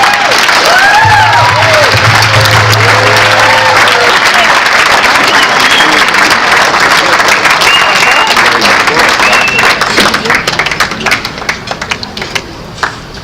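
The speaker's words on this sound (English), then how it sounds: "Another round of applause, ladies and gentlemen." Wedding guests applaud after the best man's speech, a loud, dense wash of clapping and crowd noise that continues steadily before thinning out near the end, with a voice briefly heard early on.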